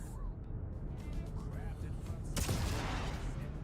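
Missiles launch at ships in a space combat video game, with a sustained rumbling roar and a bright burst of noise near the end, all at moderate volume under a steady background.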